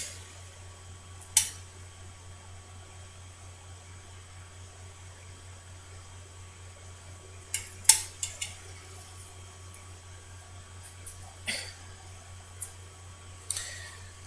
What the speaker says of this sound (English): Now I'm going to mix test tube 7